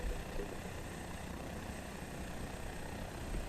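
Twin helicopter engines idle in a flight simulator with a constant, even drone and hiss, moderately loud and unbroken, with no voices.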